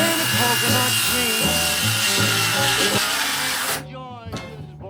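A SKIL 3571XP cordless circular saw cuts through wood, a loud close whining buzz with shifting tones that stops sharply near the end and gives way to quieter rattling, with music playing underneath.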